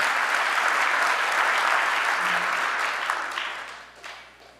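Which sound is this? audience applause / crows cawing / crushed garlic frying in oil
audience applause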